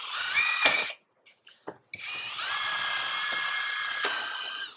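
Up close, a power drill cuts through an acrylic bubble-top sheet for a mini trike. A loud high whine stops, gives way to a few small clicks and knocks, then resumes as a long steady run, with no talk.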